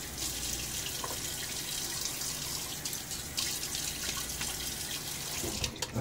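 Cold, hard tap water runs steadily into a sink and splashes as someone wets their face before a shave, a continuous close rushing with small drips and splashes.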